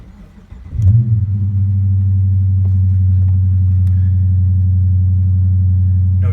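A car fitted with a Pedal Commander throttle controller cranks and fires up, then settles into a loud, steady, low engine rumble that holds close and unchanging with no talk over it.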